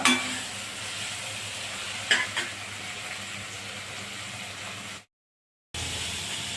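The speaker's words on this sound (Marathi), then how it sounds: "त्यामुळं मी थोडं तेल घालून परतून घेत आहे।" Paneer cubes fry in oil in a pan for a Maharashtrian-style matar paneer, giving a steady close sizzle with a couple of brief stirring clatters, then a short gap of silence before the frying hiss resumes.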